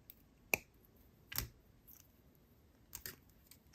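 Jewelry cutters snip excess wire off an autumn charm bracelet in a few quiet, sharp clicks spread over several seconds, close up against a near-silent background.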